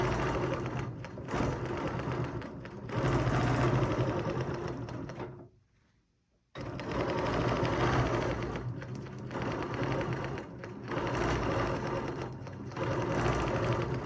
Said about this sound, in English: Hold everything down and stitch it again.